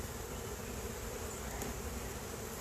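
Honey bees hum and buzz steadily around an open backyard hive, a faint, even drone with no pauses.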